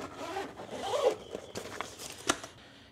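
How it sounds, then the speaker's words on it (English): A zipper is pulled open on the carrying case of a portable type 2 EV charger, a close, quick rasping zip followed by soft handling rustles and a small knock. "Okay, so let's unzip this."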